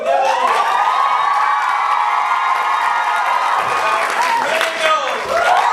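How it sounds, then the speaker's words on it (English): A school audience at a ComedySportz improv match applauds and cheers for a team, loud sustained clapping mixed with high shouts and screams from a close crowd. "So you're going to applaud for which team you like the most."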